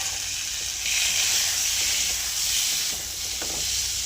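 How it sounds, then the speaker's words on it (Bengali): Prawns sizzle and fry in a hot pan for a Bengali prawn dopiaza, a steady close hiss that swells a little as they are stirred, with a few faint clinks and no speech. "এবার আমি চিংড়ি মাছগুলো দিয়ে দিলাম।"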